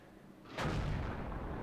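A single heavy tank gun shot in World of Tanks, fired from a 75mm autoloader on an AMX-12T, booms suddenly out of low background rumble and rings on in a long, loud tail.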